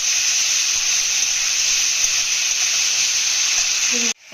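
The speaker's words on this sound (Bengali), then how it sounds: "আলুগুলো ভালোভাবে ভেজে নিতে হবে" Potatoes seasoned with salt and turmeric frying in oil, a steady close hiss and sizzle that stops abruptly at the end.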